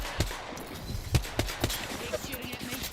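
Enemy gunfire in a video game: sparse, sharp shots popping at irregular intervals over a low background, fairly close and moderate in level, with faint chatter nearby.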